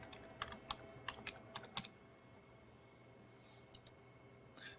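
Computer keyboard typing of a username and password, a quick burst of separate key clicks followed by a pause and two or three more taps, close but fairly quiet with no talking.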